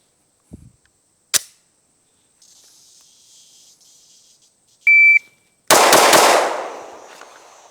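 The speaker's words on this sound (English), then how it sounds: "starting off with the Glock 45" A Glock 45 pistol fires at a shooting range, a sharp crack at the start and a louder blast near the end that rings out and fades, with an electronic timer beep between them.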